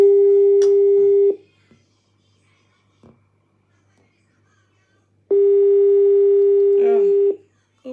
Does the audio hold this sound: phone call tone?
yes